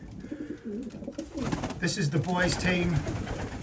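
Male stock pigeons in a breeding loft coo repeatedly in soft, rolling low calls that overlap one another, close by, while a person speaks over them.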